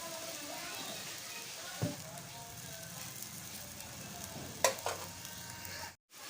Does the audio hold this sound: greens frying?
yes